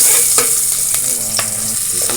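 Garlic frying in reused cooking oil for a sardine, papaya and malunggay vegetable dish, with a steady loud close sizzle and several sharp scrapes of a spoon stirring the pan.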